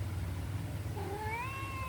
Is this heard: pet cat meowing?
yes